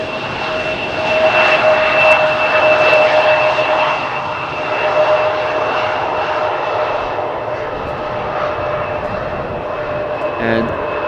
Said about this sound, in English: Probably going to vacate the runway over here where the first exit is.